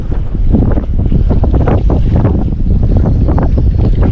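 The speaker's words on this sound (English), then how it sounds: "Well, that wind blowing now, huh?" Strong wind blowing across Lake Murray while fishing from a boat, a loud constant rumbling buffet against the microphone with the slap of waves beneath it and no talk.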